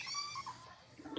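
A cat meows indoors in a short, fairly close series of high, wavering calls, with a busy domestic background and no clear talk over it.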